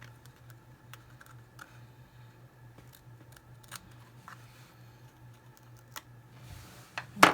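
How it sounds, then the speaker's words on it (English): Scissors cutting along a drawn line on a Dollar Tree craft project, a series of small crisp snips and ticks at an irregular pace, close and quiet, with a sharper clatter at the end. "We're going to cut right on that line."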